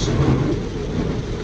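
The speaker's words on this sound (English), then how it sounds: "it is still raining." Steady heavy rain and a low rumble of thunder heard during a long road drive, a dense continuous wash with no voices.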